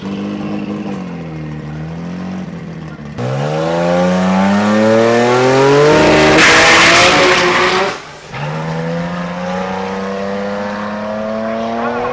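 A race car on warmed-up tires makes its first pass, its engine revving loudly through rising and falling gears, with a burst of tire squeal and a brief dip before the engine roars on.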